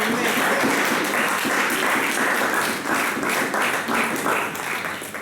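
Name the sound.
congregation applauding for God in church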